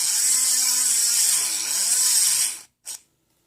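A small rotary tool spins steadily at high speed while counter milling the chambers of a challenge lock, its whine wavering slightly as it cuts, then cutting off abruptly with one short final burst.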